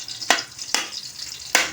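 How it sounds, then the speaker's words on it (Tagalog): Garlic sautés in hot oil, a steady sizzle broken by three sharp bursts as the pan is stirred, loud and close with no talking. "Gisa natin ang ating bawang."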